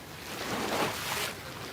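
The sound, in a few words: tide coming in, waves washing ashore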